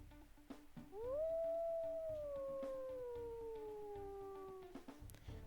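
A single long wolf howl from WolfQuest rises quickly, then holds and slowly sinks for about four seconds, clear and steady over a faint background hum.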